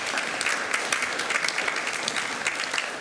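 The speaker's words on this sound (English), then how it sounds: "Let's give that a round of applause" A crowd at a school district board meeting claps steadily in celebration of a national recognition, a dense, even wash of applause with a few sharper individual claps standing out throughout.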